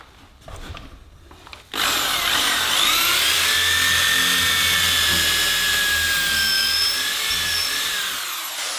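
A power drill pre-drills pilot holes in timber for bugle screws during a garage workbench and shelf build, starting abruptly after a short quiet moment and then running as one steady, loud, high whine for about seven seconds before easing off.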